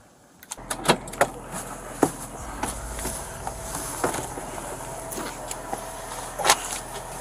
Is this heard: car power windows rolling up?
yes